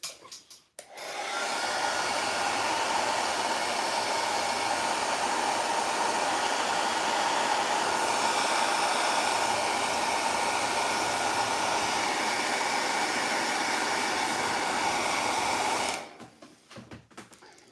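A hair dryer heats the hand of a Valaverse Action Force Sergeant Slaughter action figure, blowing a loud, steady whoosh for about fifteen seconds before switching off, with no talking.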